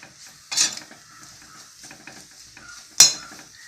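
Tamarind dry-roasting in a pan for puliyodharai powder: two sharp clanks of a spoon striking the pan stand out, with soft scraping and stirring between them and no talk.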